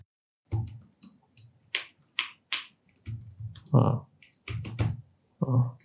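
Keys on an ASUS laptop keyboard are tapped in irregular bursts of crisp clicks and thuddy presses, close and fairly loud, with brief pauses between groups.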